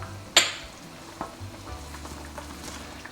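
Chilli mud crab with crab paste in a hot pan gives a sharp sizzle as ingredients hit the oil, then a low steady frying hiss with a few faint stirring clinks.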